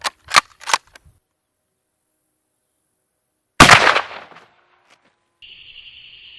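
A Mosin Nagant rifle is fired into a stack of football cards. A few sharp cracks come first, then one loud, close gunshot rings out with a decaying tail, followed by a faint steady tone.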